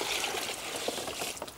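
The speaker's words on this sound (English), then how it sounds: "Now you add your water in." Water poured into a reusable concrete mixing bag, a brief splashing trickle with gurgling bursts, close and moderately loud, with no voices.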